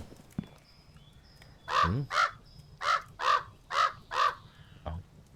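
Crow caws from the video game Pumpkin Panic, a farming horror game: six loud, evenly spaced harsh calls in a steady rhythm, heard close and alone with faint game ambience beneath.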